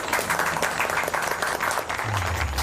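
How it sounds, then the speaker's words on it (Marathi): Hands clapping in applause during a felicitation scene in a Marathi comedy film: a steady, dense patter of many claps carrying on throughout, with a low tone joining in near the end. "टाळ्या वाजवा"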